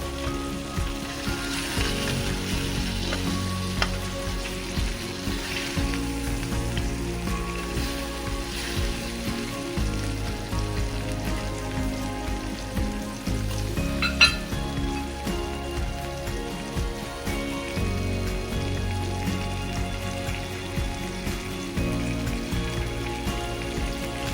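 Jeera fish frying in a pan of hot oil, a continuous crackling sizzle with scattered popping spatters and one sharper crackle partway through, steady and close with no voices.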